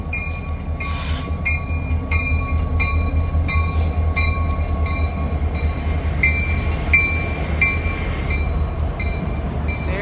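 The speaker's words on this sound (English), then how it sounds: "Look at the train, Zion." President George Bush's funeral train rolls past nearby, a loud steady rumble of railcars with repeated rhythmic clicking wheel noise and ringing high tones running through the whole pass.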